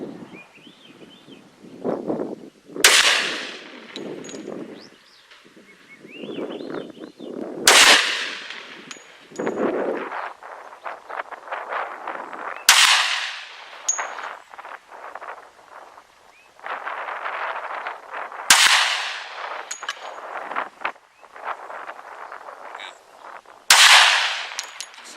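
.460 Rowland pistol fired outdoors: five loud, sharp shots spaced about every five seconds, each followed by clattering casings and metallic handling noises in between.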